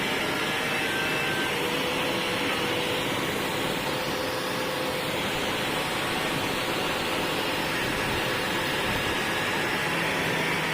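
The surface of an old Royal Enfield engine clutch case being polished smooth with a power tool, a loud, steady broadband whirring hiss that continues unbroken and close throughout, with no talking.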